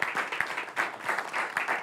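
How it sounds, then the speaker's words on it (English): A studio audience applauds on a talk show, with steady, dense clapping filling the short stretch without pause. "Can we give a round of applause for Kayla Calloway?"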